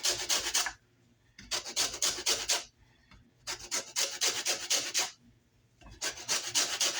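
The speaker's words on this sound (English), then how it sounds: "you're just going to grate it just till you get the yellow part" Rasping zest grating on lemon peel over a hand grater, three bursts of brisk back-and-forth scraping with short quiet pauses between them, close and fairly loud, no voices.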